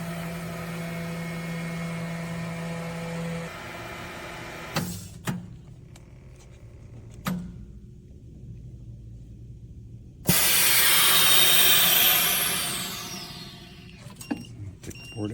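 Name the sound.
Promarks table-top vacuum sealer compressing bag of clothes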